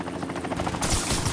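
Helicopter in the video game Trials of the Blood Dragon, a steady rotor drone with rapid chopping pulses that swells louder partway through, mixed with game noise and possible gunfire.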